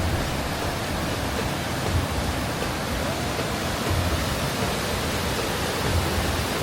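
Steady broadband roar of the Valachal waterfall near Athirappilly falls in Kerala, a constant rushing wash of falling water with no break or change throughout.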